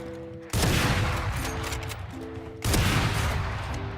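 Gunfire from the Operator sniper rifle in the Valorant video game: two loud, booming shots spaced about two seconds apart, each with a long rumbling tail, over steady game sound and music.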